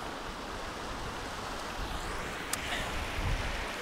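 Strong wind buffets the microphone in mountainous terrain near the ocean, a steady, loud roaring rush with occasional gusts and no talking.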